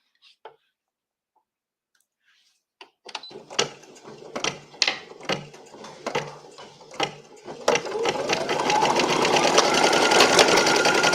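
A sewing machine stitches with a slow series of distinct mechanical clacks, then speeds into a steady, dense, close whir of rapid stitching after a short quiet start.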